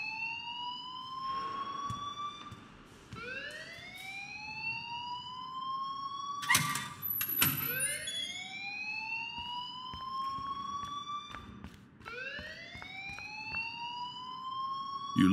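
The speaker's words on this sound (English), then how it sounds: "please turn off that alarm since that's your job" An electronic school alarm in the video game Life Is Strange wails in repeated rising sweeps, each about three seconds long, loud and steady, with a brief clattering burst partway through.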